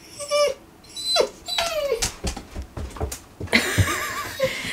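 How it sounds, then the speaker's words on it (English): A dog barks at its own reflection in a mirror, giving a series of sharp, close barks mixed with whimpers and whiny yelps in uneven bursts. "That's like the first time I've seen him actually bark like that."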